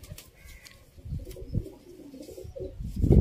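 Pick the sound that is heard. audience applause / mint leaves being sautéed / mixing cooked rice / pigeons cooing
pigeons cooing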